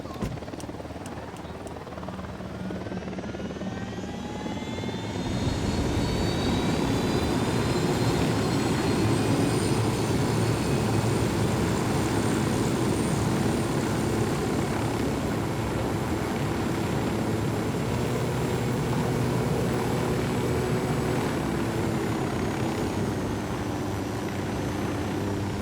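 A helicopter in the video game Ghost Recon Wildlands swells in over the first few seconds, then holds as a loud, steady engine whine and rotor drone with a rising pitch.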